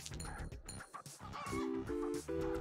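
Chickens cluck in Luck be a Landlord, a slot-machine style video game, as a few short, cartoonish clucks mixed with bright chiming game tones and soft background music.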